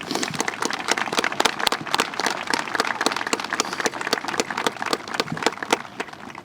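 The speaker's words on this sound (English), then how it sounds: "Please give a round of applause to these generous individuals." An outdoor audience at a veterans memorial flag park ceremony applauds steadily, a dense, continuous patter of many hands clapping with no talking over it.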